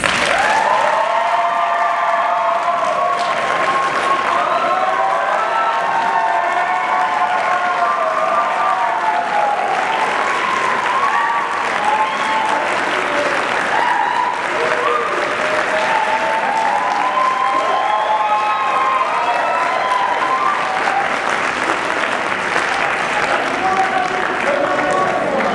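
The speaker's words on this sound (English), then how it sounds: "So let's give them a round of applause." A large audience at a 2009 Glenbard West High School theater awards ceremony claps steadily and loudly, a dense wash of applause that holds for the whole stretch without letting up.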